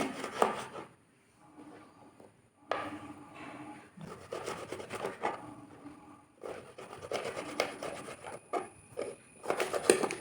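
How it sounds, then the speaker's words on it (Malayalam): A knife chops a vadukapuli lemon into small pieces on a cutting board in quick bursts of repeated cuts, with short pauses between runs, close and moderately loud. "നാരങ്ങ മുഴുവനും ചെറിയ കഷ്ണങ്ങളാക്കി"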